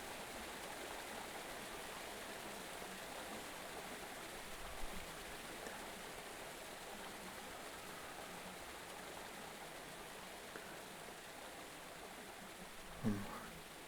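A river flows steadily as a soft, continuous rushing wash behind a calm relaxation session, constant and even throughout, with a faint click near the end.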